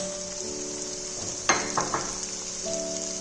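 Spice masala with turmeric frying in a pan gives a soft, steady sizzle under a faint tonal hum, with a few sharp stirring clacks in the middle.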